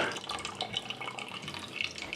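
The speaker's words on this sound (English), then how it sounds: "Okay, we're gonna take the tea out. Be very careful, don't burn yourself. Yes, you can let it drip." A brewed tea bag drips after being lifted from a kombucha home brewer, a soft patter of water droplets splashing faintly and irregularly, quiet and close with no speech.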